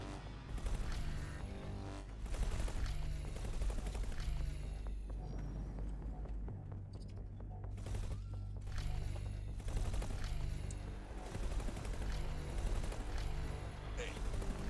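Ship weapons firing in the space game X4, with laser tower fire in the mix, crackle in dense overlapping bursts that run steadily throughout under a droning engine hum, and players talk over the din.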